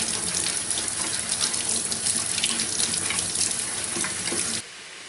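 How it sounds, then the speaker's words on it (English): Potatoes are washed under a running kitchen faucet while preparing them for canning. A steady, close rush of tap water splashes into the sink without a break, then cuts off abruptly just before the end. "back to washing more potatoes"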